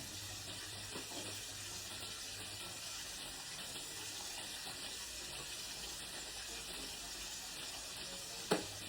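Steady, quiet sizzle of chicken frying in hot oil, a continuous soft hiss with a brief sharper crackle near the end.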